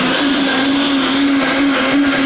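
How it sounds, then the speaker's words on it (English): A blender runs on high, churning a peaches and cream mixture with a steady, loud motor whine and no pauses, close up and alone. "now we're gonna take it over to our blender and let's blend this on high for a couple"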